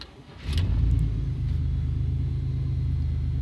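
A 2000 Chevy 1500 truck engine running on E85 with oversized 35-pound fuel injectors rumbles steadily at idle, rising after a brief quiet start into a deep, close, continuous low drone.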